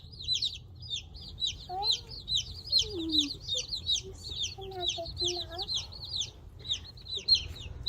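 Mail-order baby chicks chirp in a rapid, continuous chorus of high peeping, close and moderately loud, while people talk quietly underneath.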